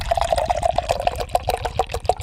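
Guinness beer glugs from a can into a glass, a close, rhythmic gurgling pour with bubbling pulses for a couple of seconds.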